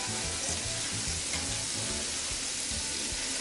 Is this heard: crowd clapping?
no